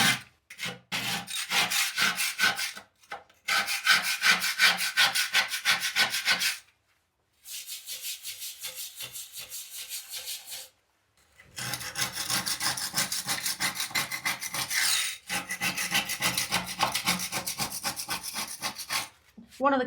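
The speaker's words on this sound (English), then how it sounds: "if I just sort of scrape down here" A wire welding brush scrapes rust from a cast iron surface in quick back-and-forth rasping strokes, with bursts separated by short pauses, close and fairly loud without speech.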